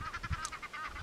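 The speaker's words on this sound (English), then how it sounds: "Oh, the Egyptian geese in the background making some commotion over there." Egyptian geese honk repeatedly in a brisk, uneven series of calls, some distance off, with no talk over them.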